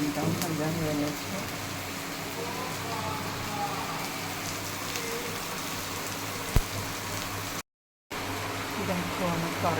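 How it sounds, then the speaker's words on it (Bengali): Heavy rain falls outdoors as a steady, dense hiss that fills the whole stretch, with a brief dropout near the end and a sharp click partway through. "বাইরে প্রচুর বৃষ্টি করছে।"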